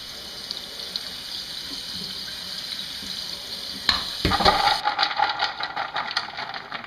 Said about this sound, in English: I'm going to run this, rinse it one more time under the running water